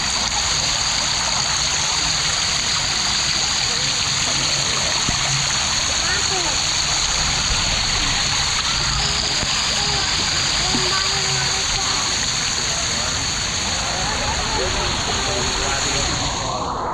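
Water splashes steadily at a small waterfall in a resort pool, a continuous broadband rush of falling and churning water from close by, with voices talking faintly underneath.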